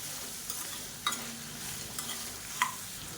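Urad dal and chana dal roast in a pan with a soft, steady sizzle, while a spoon stirs them and scrapes the pan now and then, clinking clearly twice at close range.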